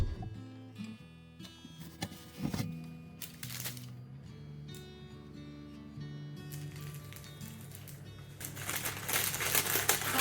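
Parchment paper is scrunched up by hand in a kitchen while shaping a wholemeal sourdough loaf, giving close, irregular crinkling and crackling bursts that swell louder toward the end.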